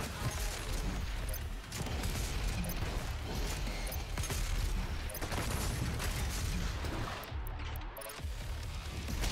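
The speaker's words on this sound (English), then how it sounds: "Shotgun." Shotgun blasts and heavy combat in the first-person shooter DOOM Eternal come as a dense, continuous barrage of booming shots, explosions and crashes that stays loud throughout.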